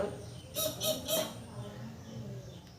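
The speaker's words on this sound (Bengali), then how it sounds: "এদিকে টিয়া পাখি চেঁচাচ্ছে আমাদের" A parakeet gives three loud, harsh squawks in quick succession near the start, then falls silent over a low indoor background.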